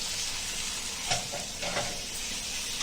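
Chicken mince being stirred and pressed into sizzling masala in a pan: a constant bright frying hiss with a few soft scraping stirs, close and steady.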